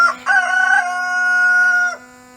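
A single rooster crows loudly and close by, one long drawn-out cock-a-doodle-doo that ends abruptly, with nothing else around it.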